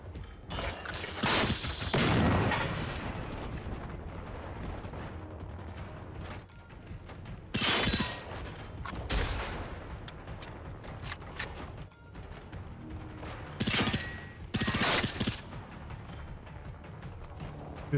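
Gunfire in the video game Generation Zero: several loud bursts of shots separated by quieter stretches of game ambience and mechanical clatter, with no talking.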